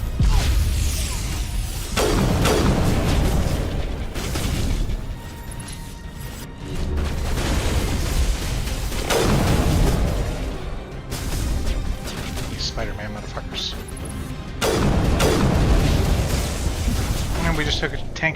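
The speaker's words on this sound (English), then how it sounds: "we just took a tank shot to the chest" Heavy combat in the video game Mass Effect, with a tank shot striking the player: loud crashing blasts and mechanical clatter recur in several bursts, with talk throughout.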